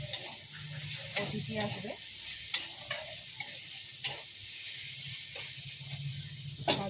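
Food stirred in a frying pan during home cooking, a steady sizzle with repeated scraping clicks from the utensil against the pan, with a voice speaking briefly over it.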